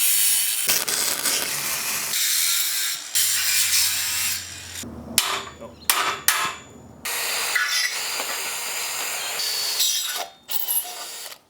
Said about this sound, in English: we have to cut into the frame again to modify it to fit